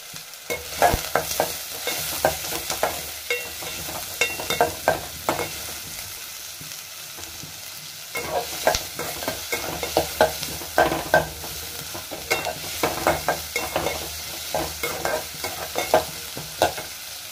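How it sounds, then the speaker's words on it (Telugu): Sliced onions and two green chillies frying in a pan for an egg curry, with a steady sizzle broken by repeated scraping stirs, loud and close, alone without talk, pausing briefly midway before the stirring resumes. "ఆనియన్స్ వేసుకొని ఆనియన్స్ బాగా ఫ్రై అయ్యే వరకు, బ్రౌన్ కలర్ వచ్చేంత వరకు ఫ్రై చేసుకోవాలి."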